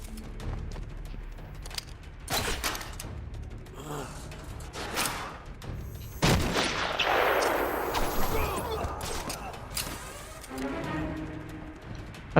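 Guards fire in Batman: Arkham Asylum, with scattered sharp gunshots among creaks and mechanical clatter, then a loud burst of blast-like noise midway.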